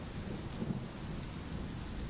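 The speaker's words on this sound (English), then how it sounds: "it was raining hard" Heavy rain pours steadily with a low rumble of thunder underneath, a dense, continuous wash of sound with no voices.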